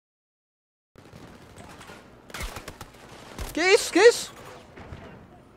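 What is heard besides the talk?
gun firing in semi-automatic mode in Battlefield 2042 video game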